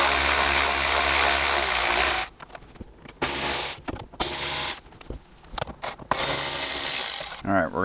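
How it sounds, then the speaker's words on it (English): A ratchet fitted with an extension backs out 10mm bolts holding the head unit in a Toyota Tundra dash, giving loud bursts of rapid clicking separated by short pauses and a few light clinks. "Go ahead and remove these 4 10mm bolts."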